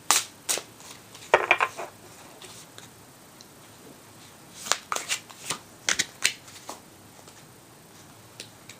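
Saints and Angels Oracle cards being shuffled by hand, a series of close, crisp riffling and slapping bursts in irregular clusters with quiet gaps, no speech.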